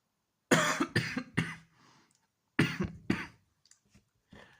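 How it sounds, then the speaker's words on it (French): Several harsh coughs close to the mic, in two bursts with a short pause between, followed by faint throat noises. "excusez-moi si je tousse déjà"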